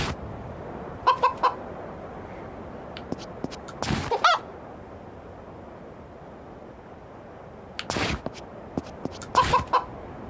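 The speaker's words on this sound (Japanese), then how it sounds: "鳥の鳴き声がね、リアル。" A rooster clucks in a game set in a 1990s Indonesian town, several short bursts of throaty clucks separated by quiet gaps, fairly close against faint background ambience, with no speech.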